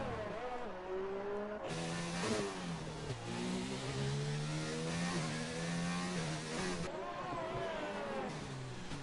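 Race cars in a racing video game at Monaco, engines droning and shifting pitch as they pass, heard under steady commentary.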